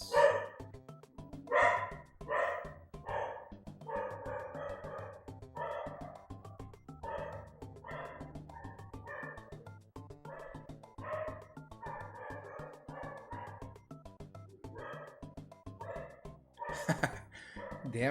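A pet dog barks in repeated sharp bursts, fairly close and moderately loud, over a steady low background hum, with brief gaps between volleys.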